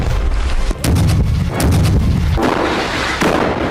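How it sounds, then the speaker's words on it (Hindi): Series of loud, heavy blasts from IED detonations in Jenin in the West Bank, booming one after another with rumbling low-end bursts across the stretch, no voices. "एक के बाद एक धमाकों से वेस्ट बैंक का पूरा जेनिन शहर धुआं हो गया।"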